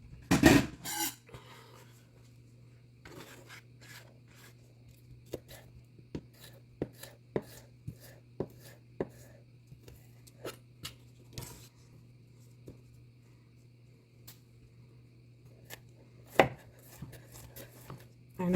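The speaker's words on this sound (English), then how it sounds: "I'll just kind of slice those by hand" Leftover vegetable pieces being sliced by hand with a knife on a cutting board, giving a series of soft, irregular chopping taps close by over a low steady hum, with no talking.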